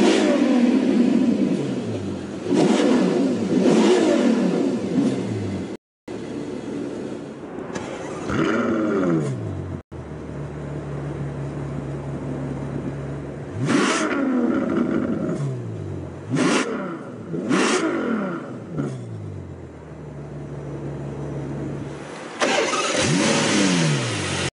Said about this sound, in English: A beautiful sound from that potent V12.